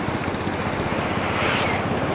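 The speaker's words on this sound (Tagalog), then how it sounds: "Lakas ng agos." Strong floodwater surges during a typhoon, a continuous rushing roar heard up close with wind buffeting the microphone.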